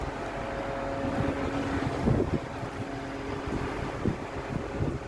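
Strong wind blows steadily around a home after the workday, a loud continuous rushing roar with gusts and buffeting against the microphone throughout.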